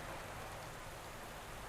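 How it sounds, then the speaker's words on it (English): Rain falls steadily in Pro Cycling Manager 2021 during a Tour de France stage, a dense, even hiss of downpour with no breaks and no voices. "It's raining though."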